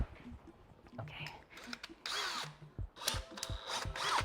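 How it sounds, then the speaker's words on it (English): An electric drill fitted with a 6 mm bit whirs in short bursts, nearby and fairly loud. There are clicks and handling noises between the runs, and a voice speaks briefly. "I'm gonna grab my 6 millimeter drill bit. And then my drill."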